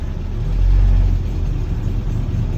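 A Series 3 engine idling just after a key start with fresh gas and choke, a steady low rumble with a brief swell early on, close and loud, no talking.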